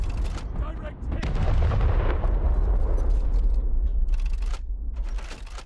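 In the War Thunder Mobile naval battle game, shells explode on a battleship in heavy, rumbling booms that roll into a sustained roar of blasts, loud and close, with a shouted voice over it.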